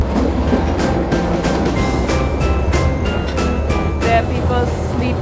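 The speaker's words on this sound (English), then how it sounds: "So we've made it onto the train." A toy train carrying passengers rattles along its rails with rhythmic clickety-clack and a constant loud rumbling drone, with faint voices in the background.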